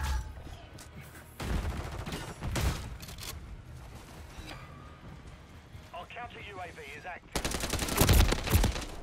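Call of Duty gunfire crackles in short volleys early on, then a louder sustained fusillade erupts near the end. Game sounds and voices mix in between.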